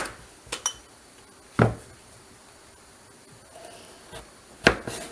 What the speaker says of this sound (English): as I'm cutting them, I'm just going to put them right into jars